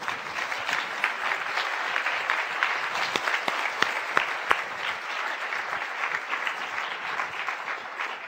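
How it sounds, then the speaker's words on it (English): An audience applauds a statewide team in a steady, dense round of clapping that holds for several seconds with a few sharper individual claps standing out, no voices over it. "just have a big round of applause for all of you"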